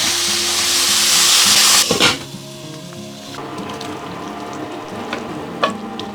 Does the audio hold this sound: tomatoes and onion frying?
yes